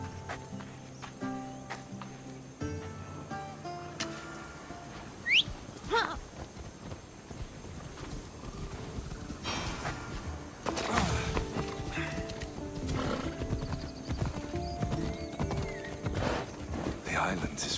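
Horse riding in Assassin's Creed Odyssey: steady clip-clop of hooves with a whinny early on, trotting continuously over ambient game sound and music, with voices talking.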